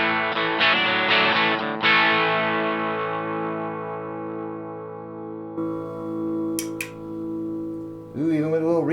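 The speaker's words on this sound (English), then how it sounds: "Now I'm going to jam on this guitar some more." A custom electric guitar rings out through effects, a few strummed distorted chords with shimmering chorus that sustain and slowly decay, followed by a short bent note at the end.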